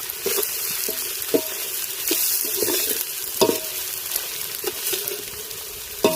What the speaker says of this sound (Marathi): हे सर्व मसाले आपण ना तेलामध्ये व्यवस्थित फ्राय होऊन देऊ